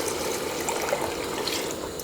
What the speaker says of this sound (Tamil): அதுக்கு தண்ணி சேர்த்துக்கலாம்